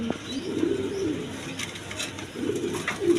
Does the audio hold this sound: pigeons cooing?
yes